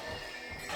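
Horse neighing in a video game, a brief whinny with faint clip-clop, heard over steady game background noise with no speech.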